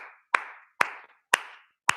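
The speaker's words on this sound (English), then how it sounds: "Un aplauso" Four single loud claps ring out alone at an even, slow pace, each sharp hit trailing off in a short echo, in a live open-debate English lesson.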